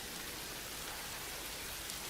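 Steady rain in a movie scene from Infinity Pool, a soft, even hiss of falling drops that stays faint and unbroken throughout, with no voices.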